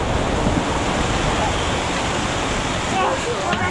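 Heavy rain pours down on a sailing boat, a dense, steady roar of water close by that holds without a break. Excited voices call out faintly beneath the downpour.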